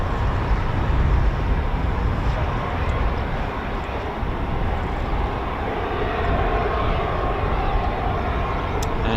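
A KC-135 tanker with four CFM International F108 jet engines roars steadily at an air force base, a loud, continuous broadband jet rumble and hiss that holds for several seconds without letting up.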